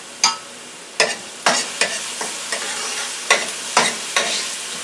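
Onions fry in a pan for a cheesy garlic pasta, with a steady sizzle broken by about ten sharp scrapes and clatters from stirring, each one close and fairly loud. No one speaks.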